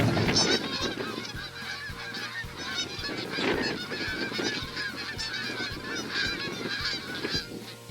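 Canada geese honk loudly and repeatedly in a late-season flock, overlapping calls close by and continuous throughout, with steady low rumbling underneath.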